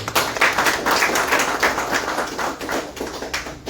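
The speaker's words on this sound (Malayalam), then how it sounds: "കൈയടിച്ച് പാസ്സായി" Audience applause at a large convention-centre motivational programme, a dense continuous wash of many hands clapping, steady and fairly loud throughout.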